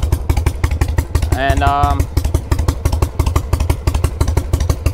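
A Harley motorcycle fitted with drag pipes and lollipop exhaust baffles idles nearby with a rapid, loping thump, while someone talks briefly over the rumble.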